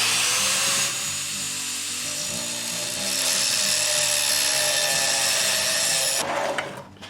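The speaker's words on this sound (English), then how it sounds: "I ground the ends off my bolts" A grinder whines continuously at close range as it cuts the ends off metal bolts, its harsh buzzing pitch shifting slightly before winding down at the end.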